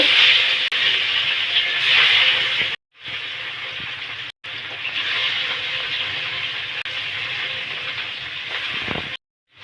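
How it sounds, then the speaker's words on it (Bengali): Steady loud sizzling hiss of rohu fish frying in hot mustard oil in a wok, continuous with two brief breaks, close by. "তেল গরম হয়েছে এখন আমি মাছ ভেজে নেব"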